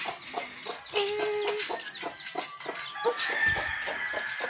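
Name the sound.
chicken clucking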